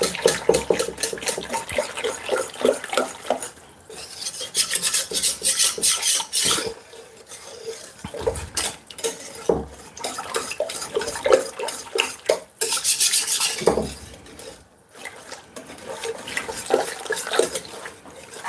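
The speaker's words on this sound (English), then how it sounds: "And we're gonna whisk this in now." A whisk scrapes steadily around a pan of béchamel white sauce, a loud rhythmic rasping and sloshing that pauses briefly a few times before resuming, with no talk over it.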